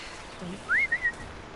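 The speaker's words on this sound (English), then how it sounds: "Why do you turn around when I'm whistling right in front of you?" A character in the video game Horizon whistles a short rising note followed by two brief clipped chirps, clear and moderately close over a soft ambient game background.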